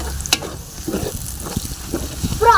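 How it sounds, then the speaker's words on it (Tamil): Ginger garlic paste and onions being sautéed for biryani in a pan: scattered spoon scrapes and knocks over a low, soft sizzle, with a brighter clatter near the end. "அடுத்து நம்ம இஞ்சி பூண்டு பேஸ்ட் போட்டு நல்லா வதக்கிக்கணும்."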